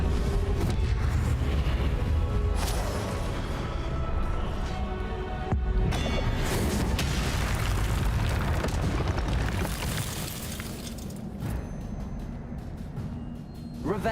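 Confringo explosion spell in the Hogwarts Legacy video game during Percival Rackham's Trial, with dense continuous booming and crashing game sound and no distinct separate bursts.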